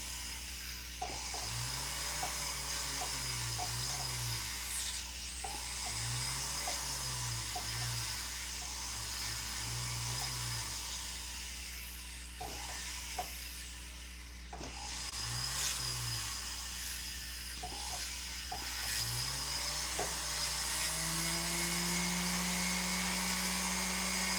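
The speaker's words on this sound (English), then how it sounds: "This might be a 600 burr because it's taking so long to go through stuff." A small rotary burr grinds into gem-grade fire agate, with a steady motor whine running throughout and a repeated pattern of short cutting bursts. The tool sounds near and even, and no one speaks.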